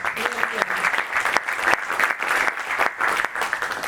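An audience applauds a speaker being welcomed onto the stage at a talk event on AI and creation in Eindhoven; dense, steady clapping from a crowd fills the whole stretch, close and fairly loud, with no one speaking over it.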